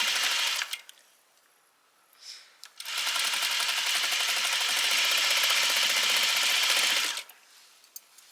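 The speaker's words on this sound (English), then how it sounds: "I'm going to sew all the way up to where the slit is" A home sewing machine stitches fabric for a Simplicity 3010 pattern, running in a steady whir for about four seconds after a short burst and pause, with another brief run at the end. It sounds close and clear, with no talking.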